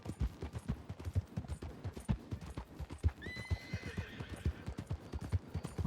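A big horse in Red Dead Redemption 2 clip-clops along in a steady, loud, continuous rhythm of hoofbeats, with a whinny partway through and little talk.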